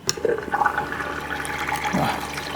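A homemade AC cooler switched on, with water running through it: a steady splashing, trickling flow of water over a low mechanical hum, close and continuous, no speech.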